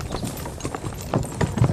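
Horse hooves clip-clopping at a steady trot during a training run, a close, regular beat of hoof strikes with a few louder thuds toward the end.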